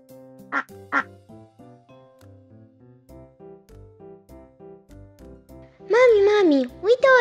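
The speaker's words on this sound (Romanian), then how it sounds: "Rața face mac, mac." Two short, sharp duck quacks sound near the start over a light plinking tune in a Romanian children's song, followed later by a loud singing voice.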